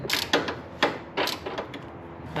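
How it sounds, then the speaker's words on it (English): Metallic ratcheting clicks come from a wrench tightening a bolt while a Mishimoto intercooler is fitted to a 1.6L turbo Miata, a few close, sharp bursts separated by short pauses. "Tighten that top bolt."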